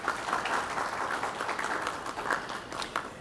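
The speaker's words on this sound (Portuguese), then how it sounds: "Uma salva de palmas também," Audience at a solar energy conference panel giving a round of applause, a fairly faint but steady patter of many hands clapping in a large hall, with no speech over it.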